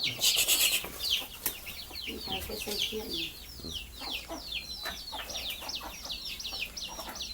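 Chickens behind a house cluck steadily with a rapid, chattering rhythm, fairly close, while birds chirp and a voice speaks over them now and then.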